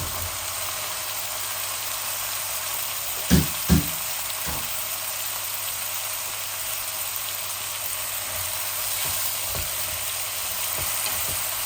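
Green beans frying in a hot pan, a steady loud sizzle throughout, with a few clanks of a utensil stirring near the start and occasional softer taps later.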